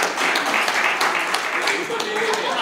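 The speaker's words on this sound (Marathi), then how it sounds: "टाळ्या वाजवा" An audience at a Marathi book lovers' gathering in Karad claps for a poet, a dense continuous patter of many hands at moderate loudness, with some voices mixed in.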